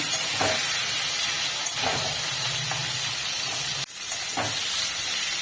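Pointed gourd (potol) pieces fry in oil over a high flame with a constant loud sizzling hiss and a few soft stirring clatters.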